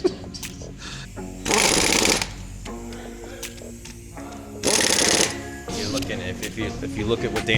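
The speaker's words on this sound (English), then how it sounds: "There's literally a air tool right there." Air tool in a garage where a 2017 Ram Rebel is being repaired, firing in two loud bursts of roughly a second each, with people talking and shop clatter between them.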